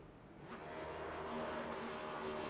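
A stock car does a celebratory burnout in a sim racing game at North Wilkesboro, its engine roar and tire squeal swelling into a steady, distant-sounding wash of noise.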